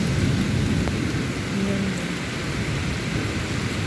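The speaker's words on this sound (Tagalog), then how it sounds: "Hala, ang lakas ng ulan." Heavy rain pours steadily outside a window, a dense continuous hiss of drops with occasional low rumbles, close and loud with no talk.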